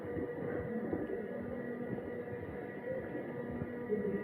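A water train ride at an adventure park rolls along with a steady, continuous rumble and rattle of the cars, moderately loud and unbroken, with no voices over it.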